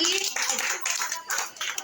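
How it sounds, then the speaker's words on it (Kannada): A crowd of people at a neighbourhood Ganesha festival prize-giving claps in loud, dense bursts at close range, the applause rising and dipping with a voice mixed in. "ಎಲ್ಲರೂ ಚಪ್ಪಾಳೆ ಹೊಡೀರಿ ಜೋರಾಗಿ"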